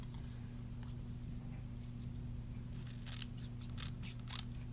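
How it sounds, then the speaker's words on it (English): Paper snips cutting through cardstock for a Stampin' Up! Broadway birthday shaker card, a run of quick, crisp snips clustered near the end over a steady low background hum. "We're going to take our paper snips, and we're going to angle the end of the make A, and then we're going to cut off a little bit."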